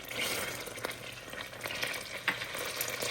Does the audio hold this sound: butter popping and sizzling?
yes